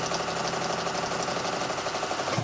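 A sewing machine stitches diagonal lines across a placemat in a steady, continuous whir with a fast mechanical rhythm, close and loud from start to finish.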